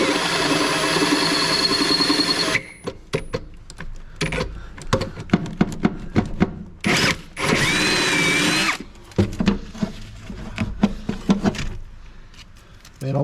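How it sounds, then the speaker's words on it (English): A cordless battery power tool, likely a drill, runs in short repeated bursts of varying length with sharp clicks and knocks between them, close and fairly loud, during metal fabrication work. "Gotta love battery tools, don't you?"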